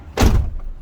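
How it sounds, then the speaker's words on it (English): A truck cab door swings shut with a single solid thud, close and fairly loud, followed by a short rattling decay inside the cab. "Close my door."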